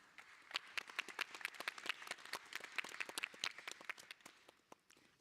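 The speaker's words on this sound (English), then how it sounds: "Let's have a round of applause for the panel." Audience applause follows a conference panel at a plenary hall, a fairly faint burst of many hands clapping that thins out and fades toward the end.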